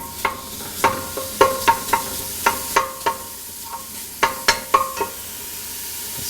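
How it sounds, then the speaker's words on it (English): Bacon sautéing in a pan, heard as a quiet sizzle under a string of distinct metallic clinks and scrapes of a utensil stirring against the pan in an irregular rhythm. "saute our bacon."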